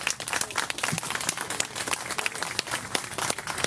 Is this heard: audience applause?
yes